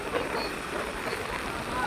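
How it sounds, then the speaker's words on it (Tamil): Strong wind buffets the microphone on the road to Karaikal beach. It makes a steady, rough roar that fills the whole moment, and a voice may be faintly mixed in. "செம்ம காற்று அடிக்குது"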